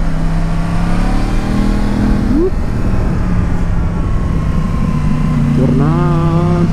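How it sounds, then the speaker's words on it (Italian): A close, loud Yamaha MT-10 motorcycle engine drones steadily in second gear on the Passo Penice mountain pass, its pitch climbing twice as the throttle opens and the engine pulls harder. "Qua stiamo in seconda, che tanto riprende il motore."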